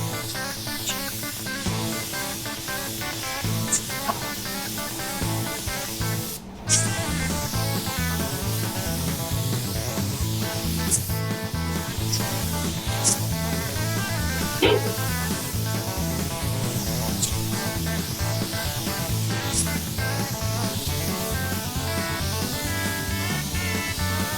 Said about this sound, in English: let's get this all mixed up and get in there and spray it